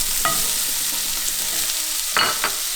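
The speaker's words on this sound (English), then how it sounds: "I'm gonna add the butter to the pan" Butter sizzling in a hot pan, a loud, even hiss held throughout with brief scrapes or spatters near the start and toward the end.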